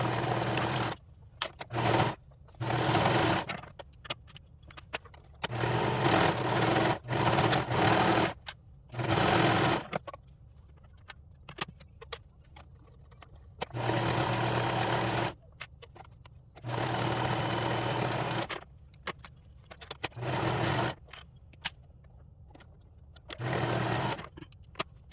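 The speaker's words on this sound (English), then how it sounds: "So I'll meet you over at the sewing machine." A sewing machine stitches a hoodie in repeated bursts of steady whirring, each run lasting a second or several seconds and separated by quiet pauses.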